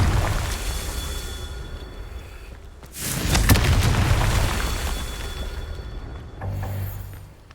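A Confringo blasting curse from Hogwarts Legacy explodes with a deep, loud boom that swells and rumbles for several seconds before fading, followed by a smaller rumbling burst.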